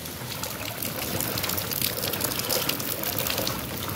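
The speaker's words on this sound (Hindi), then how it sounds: "आप देख सकते हैं इस वक्त बारिश काफ़ी तेज़ हो चुकी है" Heavy rain falls steadily on a road where water has pooled, a dense continuous hiss and patter with no breaks, fairly close and uniform throughout.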